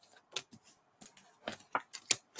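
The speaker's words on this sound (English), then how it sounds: "Oh, man, the cards are getting so thick. I am having a hard time shuffling them" A thick deck of tarot cards is shuffled close by, a series of soft, quick papery riffles and flicks in short irregular bursts against near silence.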